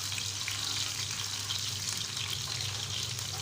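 Chopped garlic frying in oil for masoor dal gives a steady, close hiss of sizzling with a constant low hum beneath, unbroken for the whole stretch.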